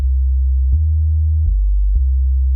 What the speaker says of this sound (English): Let's just throw a sine wave into it.